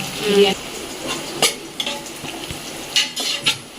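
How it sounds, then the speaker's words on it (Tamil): Small onions sizzle and fry in a pan while a utensil stirs and scrapes, with light clinks of metal against the pan over a steady hiss during home cooking of biryani. "இப்போ நம்ம சின்ன வெங்காயத்தையும் கொஞ்சம் நல்லா வதக்கிட்டுக்கலாம்"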